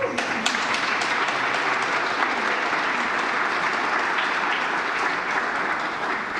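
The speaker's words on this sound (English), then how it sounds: "Give yourselves a round of applause real quickly." Sustained audience applause fills a museum-of-art venue at an orchestra event, a dense, even wash of many hands clapping steadily throughout without a break.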